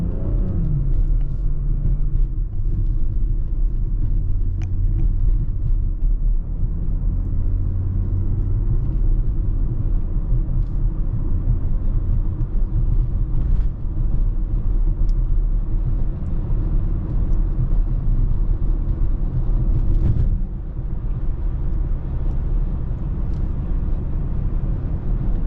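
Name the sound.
2018 BMW X3 M40i driving, engine rumble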